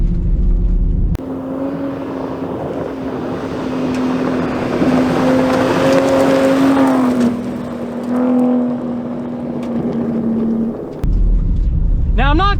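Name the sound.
Ford Raptor truck driving over big bumps off-road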